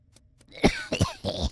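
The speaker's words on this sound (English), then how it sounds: "I think he heard me coughing." Three harsh coughs in quick succession, close and fairly loud, with a couple of faint clicks just before.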